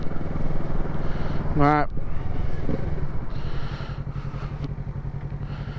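A Kawasaki Z650 motorcycle climbing a hill in third gear on a light throttle, a steady low engine drone with wind rumble, settling into a rhythmic idling throb; someone talks over it.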